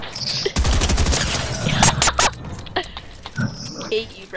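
Fortnite gunfire plays in rapid automatic bursts mixed with other game effects, loud and close. Players talk over the shooting at the same time.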